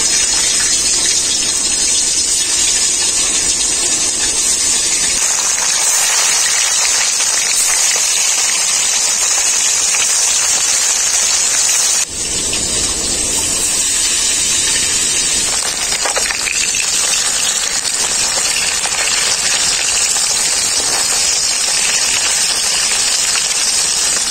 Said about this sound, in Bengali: বাকি মাছগুলো আমি একইভাবে ভেজে নেব।